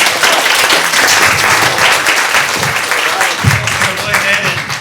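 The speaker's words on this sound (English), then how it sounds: "Round of applause." Audience at a community dedication night applauding loudly and close, dense clapping mixed with crowd noise and some voices over it.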